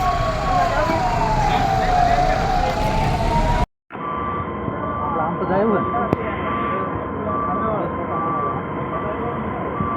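Fire brigade and ambulance sirens respond to a fire at an industrial company near Dahej. A loud, close wailing siren sweeps up and down, cuts off abruptly, then gives way to a steady siren tone over rumbling traffic and engine noise.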